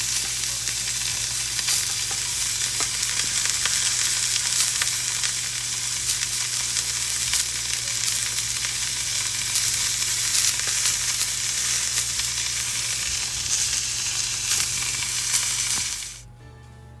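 Pork tenderloin browning in a hot pan gives a dense, even sizzle that runs steadily and loud for about sixteen seconds before cutting off abruptly.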